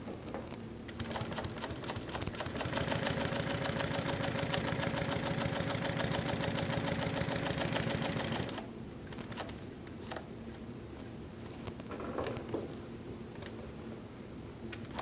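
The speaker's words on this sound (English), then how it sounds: "We'll sew around the perimeter of this" A Pfaff 145 industrial walking foot sewing machine stitches two layers of 2.5 ounce chrome tan leather, running in a steady, loud, fast mechanical clatter for about eight seconds before stopping, followed by quieter handling noises.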